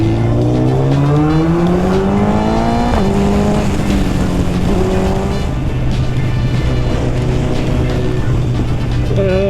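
Suzuki Hayabusa superbike engine while riding on a solo highway ride, a loud steady roar with rising harmonic pitch sweeps as it accelerates through gears, wind rush underneath, no talking.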